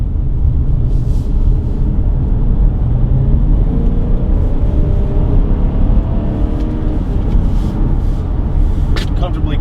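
A Subaru Outback's H6 boxer engine accelerates onto a freeway, a steady low rumble of engine and road noise building gradually, with a person talking over it throughout.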